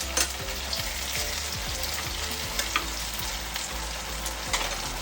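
Chopped onions and tomatoes fry in oil in a pan for egg tadka, giving a steady crackling sizzle with scraping stirring strokes repeating close by, and no voices.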